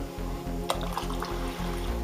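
Cabbage juice is poured into a pot of sour soup, making a steady, fairly loud liquid gurgle that runs alone for the full couple of seconds.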